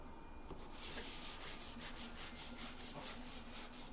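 Steady abrasive rubbing of sanding on a patched, mudded drywall spot during a home remodel, continuous and close with repeated back-and-forth strokes, no talking.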